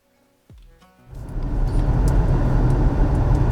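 A Tesla Model Y Long Range drives on a road, its steady, loud cabin rumble of tire and road noise rising quickly after a brief quiet start and holding constant.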